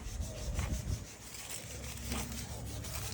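Steady abrasive rubbing with repeated strokes, a gritty scraping of sanding on 1964 Impala car doors that carries on without pause throughout.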